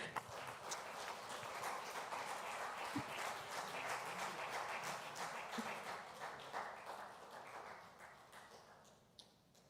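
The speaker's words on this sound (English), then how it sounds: "a big round of applause for that." Audience applause after a presentation at a real estate seminar, a steady faint patter of many hands that thins gradually toward the end.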